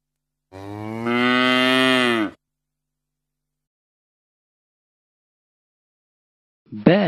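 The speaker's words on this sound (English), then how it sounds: "Cow. Cow." A single drawn-out cow moo rings out clearly and loudly for about two seconds, then silence, with the start of another sound cut off at the very end.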